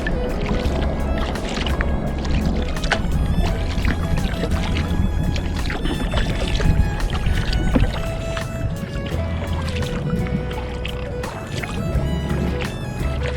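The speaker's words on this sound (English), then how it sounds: "Kind of paddling straight into a mild headwind" Kayak paddling into a mild headwind near Copper Island, with steady water splashes and dips from the strokes over constant wind noise, close and fairly loud throughout.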